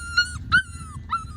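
Schnoodle puppies playing in a yard give three short, high yips and whimpers in quick succession, close by over a low background rumble.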